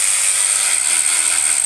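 A DeWalt DCF503E 12V extended-neck 3/8-inch cordless ratchet with a brushless motor runs steadily, giving a loud, close, continuous high-pitched gear whine with no pauses.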